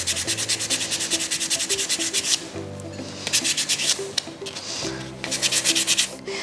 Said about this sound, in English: just a little bit of hand sanding to finish that off